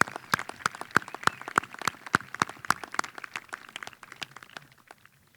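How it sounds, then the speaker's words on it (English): Sparse applause at a 2019 commencement ceremony at NEO A&M College: scattered individual claps, fairly close, in an uneven patter that thins out and fades toward the end. "let's all give them a round of applause for what they do for us"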